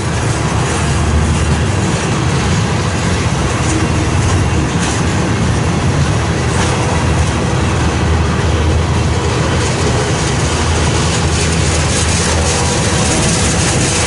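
A Union Pacific manifest freight train rolls through Fairbury, Nebraska, a loud, continuous rumble with clattering wheels and faint squeals, steady and close throughout with no voices.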